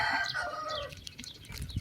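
A farm rooster gives a single stretched crow, fairly faint and slightly distant, followed by scattered low background rustling with no voices.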